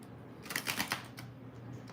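Tarot cards shuffled by hand, a quick series of close crisp riffling snaps and slaps over about a second, with quieter handling around them and no talk.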